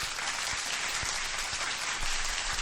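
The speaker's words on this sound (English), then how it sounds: "The crowd is clapping like crazy tonight" A large crowd at a live UFC fight event applauding, a dense, sustained wash of clapping that stays loud and steady throughout, with no voices standing out.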